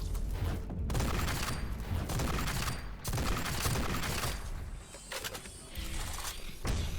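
Heavy bursts of gunfire from a sniper rifle in the shooter game GTTOD: Get To The Orange Door, loud broadband cracks in dense clusters separated by brief drops, with no talk.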